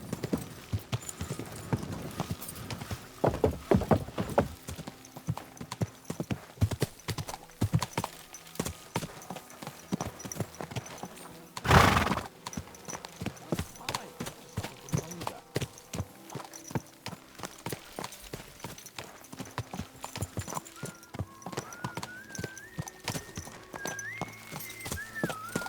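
Horse hooves clip-clop steadily in Kingdom Come Deliverance 2 as a mare is ridden back to the stables, a continuous rhythmic trot with a short loud burst midway and game music tones underneath.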